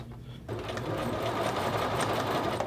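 A sewing machine runs steadily while basting a notched men's shirt collar along the neck edge, a continuous close whirring that starts after a brief quiet moment and carries on without pause.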